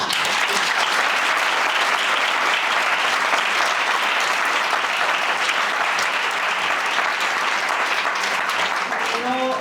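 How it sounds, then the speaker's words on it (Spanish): Sustained applause from a large audience, steady and dense clapping throughout, loud and close, with no talking over it. "Podemos volver a aplaudir"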